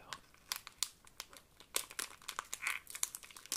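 Crinkly foil wrapper of a Lord of the Rings trading card booster pack torn open by hand, close and quiet, in a run of sharp crackles and rustles with no talk.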